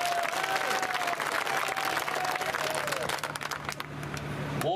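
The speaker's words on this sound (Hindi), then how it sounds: "ताली बजा।" Dense crowd applause at a political rally in Ashoknagar, steady and loud throughout, with a tonal whistle-like line drifting across and slight thinning near the end.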